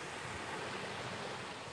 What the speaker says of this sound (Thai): มาแค่นั่งฟังเสียงคลื่นนั่งฟังทะเลเงี้ย